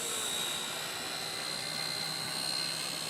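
An XK K123 AS350 RC helicopter flies nearby with a steady, continuous whine and rotor hum, alone with no talking.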